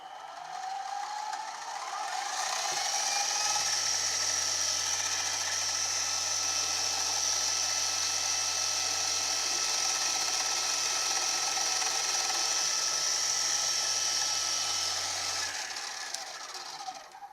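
A small machine-shop drill spins up and bores a hole in a metal part, a steady high whine and grind of about thirteen seconds before it winds down.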